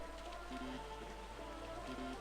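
Steady rainfall in a video game, a soft continuous hiss of drops spread evenly through the whole stretch, faint and unbroken, with light tonal game music beneath it.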